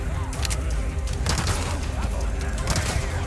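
Gunfire in Resident Evil's Mercenaries mode, village stage, playing as HUNK: dense, crackling shots and impacts over a loud, continuous action soundscape, with bursts of firing throughout.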